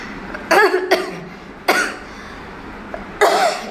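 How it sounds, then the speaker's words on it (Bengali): A woman coughs close by in four separate harsh bursts with short quiet gaps between them, and no talking. "এডিট করতে করতে এত কাশি হচ্ছে"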